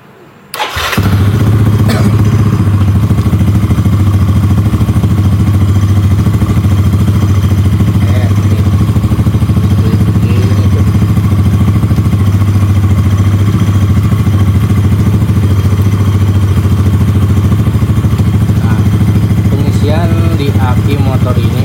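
Motorcycle engine started with a clattering thump, then idling steadily and loudly with a low, even drone throughout; faint talk may sit underneath.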